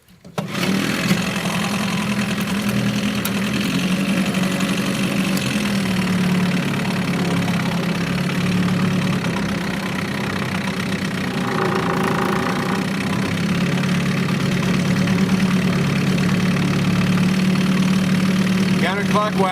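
An Evinrude 4hp Excel outboard motor idling during a water test, a close, steady mid-pitched putter with a knocking pulse that runs without pause, with people talking over it in places.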